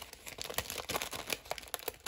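Plastic gift pack crinkling and rustling close up as items are pulled out, with quick irregular crackles and soft handling bursts throughout.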